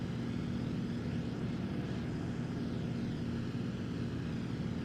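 A propeller airplane engine drones steadily and loudly, a continuous broadband roar with a low throbbing hum and no pauses, heard up close from the cockpit.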